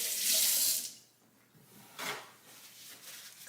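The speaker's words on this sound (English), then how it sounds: "Wash my hands again." A kitchen sink tap runs as hands are washed, a loud gush of water at first, then quieter splashing with a second brief surge, no voices.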